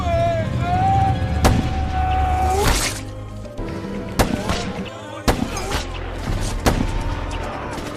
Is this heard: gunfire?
yes